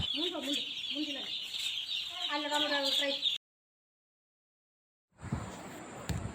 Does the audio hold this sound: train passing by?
no